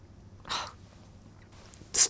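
A quiet breathy intake, then a pause, and finally a sudden loud, hissing sneeze bursting out close by.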